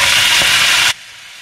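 Swiss chard stalks hit hot oil with nigella and mustard seeds, giving a loud, close, steady sizzle that cuts off abruptly to near quiet after about a second, as if covered.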